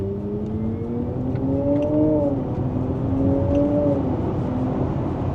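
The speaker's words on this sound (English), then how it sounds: "noises to make it feel like a petrol car" A Porsche electric car plays a synthetic petrol-engine sound during a downshift, a smooth tonal drone whose pitch rises and falls twice, heard from inside the cabin with no talking.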